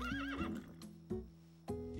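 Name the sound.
horse neighing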